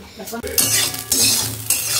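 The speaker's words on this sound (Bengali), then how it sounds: "নিম পাতা ভাজা।" Neem leaves fry in a pan with a bright crackling sizzle, punctuated by quick spatula scrapes and metal clatter against the pan over two seconds, close and fairly loud.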